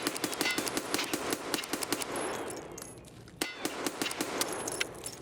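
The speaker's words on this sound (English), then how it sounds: "Now let's try to move and shoot the same spot and see what we're dealing with sway-wise." Rapid automatic rifle fire in Escape from Tarkov while moving and shooting, two long, evenly spaced bursts of sharp cracks with a brief pause between, loud and close, with faint jingling of gear underneath.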